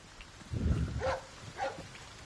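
A dog barking in a video game, a few soft, fairly distant woofs spaced apart over a low murmuring background.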